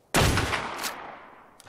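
Gunfire from a gun in ARK: Survival Evolved on the Ragnarok map, one sharp loud blast with rapid crackle that rings and decays over about a second, no voices during it.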